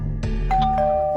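A household doorbell rings with a short two-tone chime, a couple of bright electronic notes ringing close and clear in an indoor setting.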